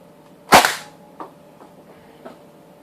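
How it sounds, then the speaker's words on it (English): A single sharp snap as an AccuStrike dart fires from a modded hunter bow, loud and close, followed by a couple of faint clicks and rattles. "And finally we're going to be firing the AccuStrike dart."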